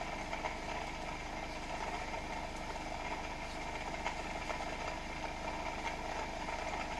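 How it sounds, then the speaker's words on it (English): A small electric motor runs on 12 volts in a homemade no back EMF generator setup, giving a continuous, even hum with a faint steady whine at moderate distance and no voices. "This is the motor."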